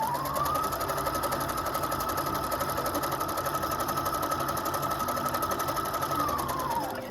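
A Husqvarna Viking #1+ sewing machine runs steadily at close range, its fast even stitching whir holding for about seven seconds with no voices, then winding down at the end.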